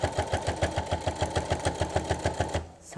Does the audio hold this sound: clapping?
no